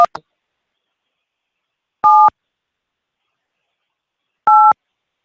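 Telephone voicemail tones: a brief blip, then two separate loud electronic beeps about two seconds apart, each clean and short, with silence between and no voices.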